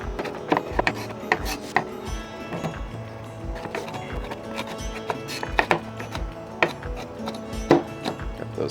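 Hand chopping of vegetables for pozole, a brisk series of knife strikes on a cutting board, irregular but steady, close and clear, with kitchen clatter and no talking.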